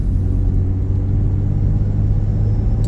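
A car's engine rumbles steadily while driving on a mountain road, with a loud, even low drone and road noise throughout and no voices.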